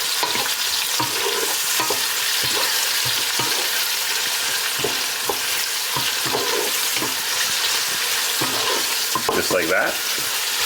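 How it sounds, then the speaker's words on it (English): An onion cooks down in a pan with a loud, steady frying sizzle, broken by repeated scraping strokes of stirring, and a voice speaks briefly near the end. "let's get our onion cooked down"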